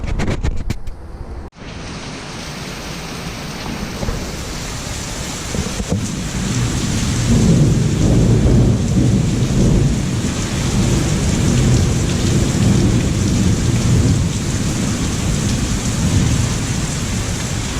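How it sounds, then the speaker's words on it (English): Heavy afternoon monsoon rain pours steadily with a dense roar, and low thunder rumbles through the storm; a sharp crack of lightning is heard near the start. "Storm clouds are rolling in. The afternoon monsoon. Oh, there's some lightning."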